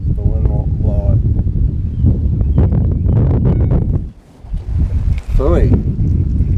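Wind blowing over a boat while fishing, a loud steady rumbling gust noise buffeting the microphone throughout, with people talking over it.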